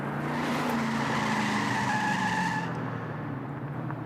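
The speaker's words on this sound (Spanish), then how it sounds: "¡Qué manera de agarrar la curva sin frenar!" A Ford Mustang takes a curve at speed without braking, its engine roaring loud and steady with a long tire squeal sweeping across the turn before the sound drops away near the end.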